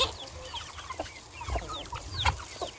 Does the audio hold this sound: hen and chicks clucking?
yes